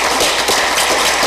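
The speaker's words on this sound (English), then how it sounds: "so a round of applause for them" Dense, steady applause from a city council meeting audience, with broadband clapping filling the whole short stretch at a loud, even level.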